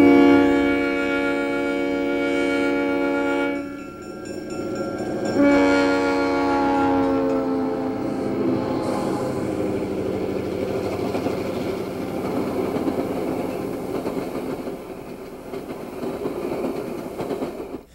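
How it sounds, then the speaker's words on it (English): Canadian National passenger train, the International, arriving and sounding a loud, sustained multi-note horn that breaks off and sounds again, followed by the rumble and clatter of the train rolling past. "train number 155, Grand Trunks, the International, arrives from Toronto. This is a Canadian National train."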